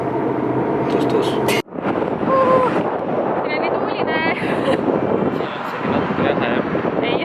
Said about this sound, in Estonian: aga tuuline on